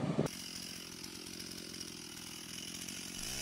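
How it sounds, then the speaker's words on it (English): A chainsaw cuts through hardwood logs during a forestry operation, its steady, buzzing engine drone holding constant and fairly quiet throughout. "These powerful saws, when handled by trained professionals, make short work of hardwoods, preparing them for processing in record time."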